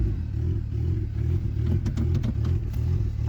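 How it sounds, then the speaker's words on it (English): A turbocharged Honda Accord engine runs at a jumpy idle, a loud, close, steady low rumble with faint clattering ticks and no talking. "So it starts up. It's still got its jumpy idle from the idle valve, but I mean, it runs."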